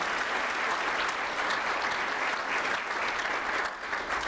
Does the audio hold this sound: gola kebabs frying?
no